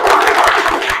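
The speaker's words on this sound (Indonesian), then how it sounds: "Oke, tepuk tangan semuanya." Students break into a brief burst of applause in a classroom, with dense, close clapping filling the moment at a loud level.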